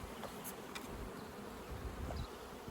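Honey bees buzz in a dense, steady drone at an open beehive body, close and continuous throughout with no talking.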